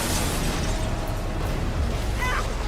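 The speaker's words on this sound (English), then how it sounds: "Everything's gonna explode now." Explosion in the Resident Evil Requiem video game, a sustained loud rumbling blast with crackling debris filling the whole stretch, with a brief higher whoosh near the end.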